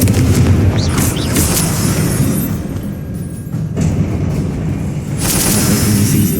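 A Confringo fire spell explodes in Hogwarts Legacy, a loud booming blast followed by rumbling roar that sustains and swells again, very close and dense.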